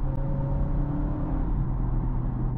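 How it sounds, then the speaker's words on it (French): A Honda ZR-V hums steadily as it accelerates on the road, a close, even engine and road drone with a faint rising whine and no talk. "Quand tu appuies sur l'accélérateur"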